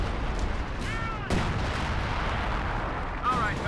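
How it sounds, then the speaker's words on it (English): An artillery barrage from the Company of Heroes 2 game sounds as heavy booms and crashing impacts over rumbling battle noise, with a sharp blast partway through and whistling shells overhead. "Artillery from the major"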